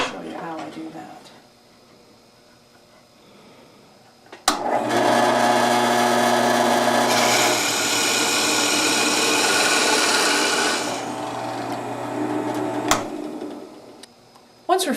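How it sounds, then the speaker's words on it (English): Drill press boring a hole through a wooden pen blank held in a hole jig: a loud, steady motor whine with rasping cut noise, running about eight seconds after a sharp start, then winding down, with faint talk before it. "put it onto your drill press and drill the hole"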